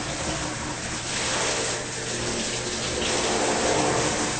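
A shower hose sprays water over a bathtub to clean it, making a loud, continuous hissing gush of water striking the tub surface, close by and steady throughout.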